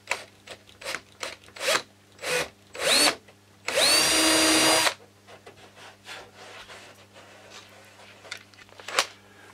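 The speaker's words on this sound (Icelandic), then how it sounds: "Ég byrja með því að bora bara" A power drill bores a small 6 mm hole in aircraft wing plywood with one loud, steady burst of about a second, close to the microphone. Short trigger blips and tool handling come before it, and quieter clicks follow.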